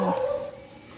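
One dog barks once in a Thai backyard garden, a brief yelp that fades quickly into quiet outdoor background.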